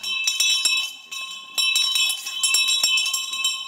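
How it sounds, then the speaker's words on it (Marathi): A hand bell rung on a comedy theatre stage gives a rapid series of bright, ringing metallic strikes, loud and close, with short gaps between bursts and no talking. "हे बाबानो बेल देतोय रे"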